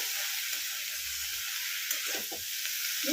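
Soft sizzling of potato and snake gourd curry in a pan, with a few light scraping stirs of a spoon against the metal over a constant hiss of frying.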